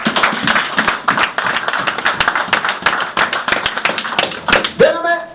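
A church congregation breaks into rapid, dense applause that holds steady for several seconds and then tapers off, with a voice rising briefly at the end.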